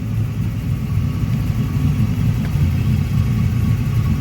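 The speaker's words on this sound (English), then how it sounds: "Running great with that Chevy Performance Crate LS3." A 1987 Chevrolet Silverado C10 pickup with a 6.2-liter Chevy Performance LS3 crate V8 idles with a steady, deep rumble at close range, loud and even throughout with no voices.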